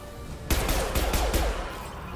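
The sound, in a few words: gunfire in video game Mass Effect 2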